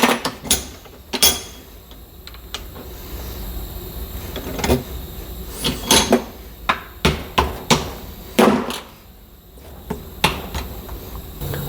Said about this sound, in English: Next step is to just hit the bushings out.